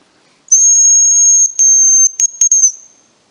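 A thin, high-pitched hazel grouse decoy whistle holds a long steady note, then a series of shorter piping notes and a brief trill, alone in silence.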